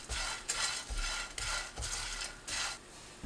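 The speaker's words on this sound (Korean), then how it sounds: "3분 후 건새우 넣고 30초 볶습니다." Dried shrimp and garlic stir-fried in olive oil in a pan over low heat, heard as rhythmic scraping strokes of a utensil against the pan, roughly one per second, over a soft sizzle.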